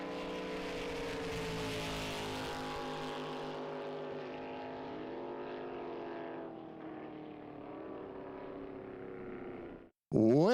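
Drag racing car with a 540 Chevy engine roaring down the strip, a loud sustained engine drone that fades gradually as it pulls away, then cuts off abruptly before a new burst.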